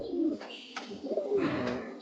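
A bird coos softly in a few low, rounded phrases, close by, with no talking.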